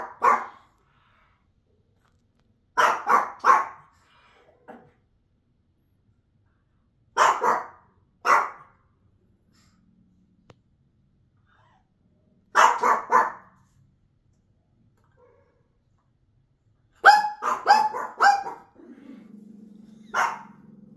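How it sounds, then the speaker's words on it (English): Two Pekingese dogs bark in loud, close bursts of several yaps each, repeating about every five seconds with quiet gaps between, followed by a brief low growl at the end. "a video of two dogs that make so much noise"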